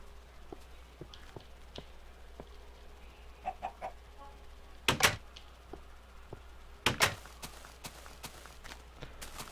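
Chickens in the Minecraft 1.3.1 survival game give a few soft clucks amid quiet ambience, broken by two loud sharp bursts of clatter midway, with no talking.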